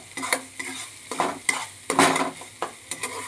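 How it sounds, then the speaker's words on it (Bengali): Banana flower stem (thor) being stirred and fried in a pan, with a series of close scraping stir strokes over a steady soft sizzle, roughly every half second. "এভাবে সমানে নেড়ে নেড়ে ভাজতে হবে"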